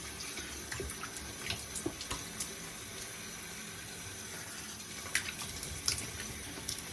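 A bathroom tap runs steadily in a sink during a wet shave, a continuous close water hiss with scattered small splashes and clicks as hands and razor move through the stream, no talk.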